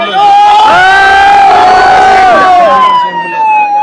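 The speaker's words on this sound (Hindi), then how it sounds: "साइड हो यार, एम्बुलेंस आ रही है।" An ambulance siren wails loudly through a dense crowd at a street protest, its rising and falling tone close by over crowd noise and voices.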